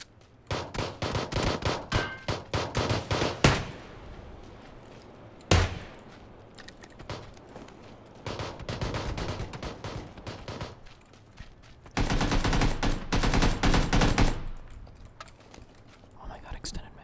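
Rifle gunfire from the RimWorld video game, loud bursts in clusters with a sharp single report near six seconds and a dense volley around twelve to fourteen seconds, under excited talk.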